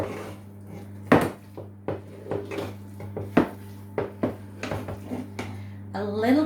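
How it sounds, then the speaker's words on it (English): A Christmas cake mixture with flour being stirred in a bowl, with irregular knocks and scrapes of the spoon against the bowl over a steady low hum, plus a brief bit of talk at the end. "I'm now going to add a little bit of flour, and again mix"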